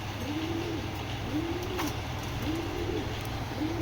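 A Giribaz pigeon cooing close by, with repeated soft, rounded coos at a steady rhythm over a low background hum.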